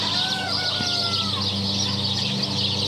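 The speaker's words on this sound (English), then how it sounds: "the little roosters are crowing" Young roosters crow in a drawn-out, wavering call near the start, against a constant backdrop of clucking chickens and dense ambient noise, with no talking.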